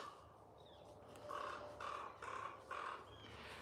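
A crow caws from up in a distant tree on a ranch, four harsh calls in an even rhythm, far off and moderately loud over a quiet outdoor background.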